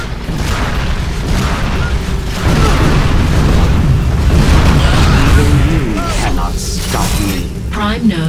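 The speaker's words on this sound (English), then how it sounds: "Prime node destroyed." A prime node explodes in Unreal Tournament 3's Warfare mode: a loud, sustained rumbling blast mixed with mechanical game effects, with voices heard over it.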